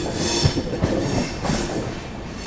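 Deccan Queen Express running on the Pune line out of Kalyan Junction, heard from inside the moving train as a steady loud rumble of wheels on track with faint rail clatter, and no one speaking.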